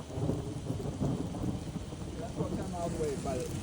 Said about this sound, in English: unless this rain gives up at some point